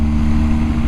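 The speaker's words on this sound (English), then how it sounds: "let you hear this amazing sound that this Boxster engine is making after the BT Moto tune with the Akrapovic exhaust" BMW R1250GS boxer-twin engine with a BT Moto tune and Akrapovic exhaust, idling steadily with a deep, close, continuous low rumble and no voices.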